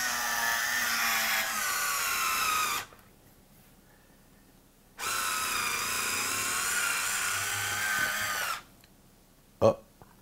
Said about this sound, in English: now let's try and take the cork out with it